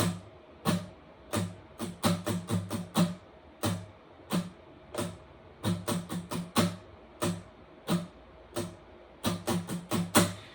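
An acoustic guitar is strummed in a steady down-up rhythm, with quick bursts of strokes grouped into repeating bars and no voices.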